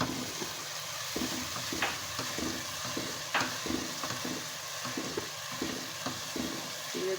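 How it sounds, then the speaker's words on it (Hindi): Minced meat frying in a pan with garlic, ginger and cumin for aloo keema, a soft, steady sizzle broken by repeated spoon-stirring scrapes and knocks, close up with no talking. "अब हम कीमे को उसका कलर चेंज होने तक फ्राई करेंगे।"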